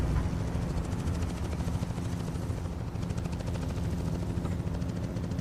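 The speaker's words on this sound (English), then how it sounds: "Now I hear a helicopter, but I don't know where it is." A helicopter in American Truck Simulator's Texas map: a steady, loud rotor drone with rapid rhythmic chopping pulses, continuous throughout with no talk.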